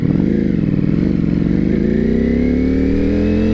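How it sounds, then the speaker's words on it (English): Ducati motorcycle engine running at close range, loud and steady, its pitch climbing smoothly as it accelerates, with no voices. "this afternoon I'm on the Ducati"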